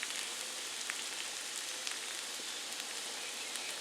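Sliced zucchini fries in a hot pan for a grilled zucchini salad, giving off a faint, steady crackling sizzle with scattered small pops and no voices.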